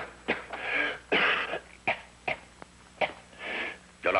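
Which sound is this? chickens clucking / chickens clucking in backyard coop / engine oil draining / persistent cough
persistent cough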